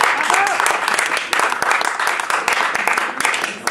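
Lively audience applause at a screenwriters' house event, dense clapping with sharp individual hand claps standing out, while voices call out and talk over it.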